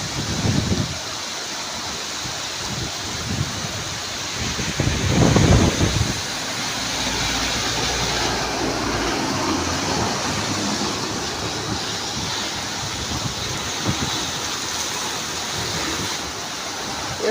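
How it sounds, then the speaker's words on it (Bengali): Heavy torrential rain pours down on a rainy-season day, a loud, dense, continuous hiss and roar of water that stays steady throughout with no voices. "মুষলধারে বৃষ্টি হচ্ছে"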